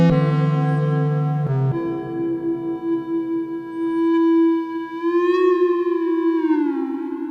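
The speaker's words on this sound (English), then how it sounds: "a drone sound that I created with the FM sound on the Arturia Drumroot Impact drum machine" An FM drone from an Arturia DrumBrute Impact drum machine: a sustained, buzzy harmonic tone that shifts pitch early on, then holds and swells with slow wavering, bending in pitch toward the end, heard alone.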